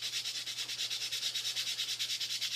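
Light hand sanding of wood to bring out the grain, a quiet, rapid back-and-forth scratching in an even repeating rhythm, close and alone.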